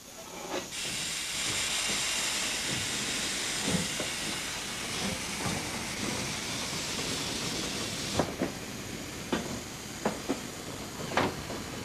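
Polish-built steam locomotive, borrowed heavily from the German class 52 design, hissing steam in a loud, steady rush, with a few sharp knocks and clanks near the end and no talk.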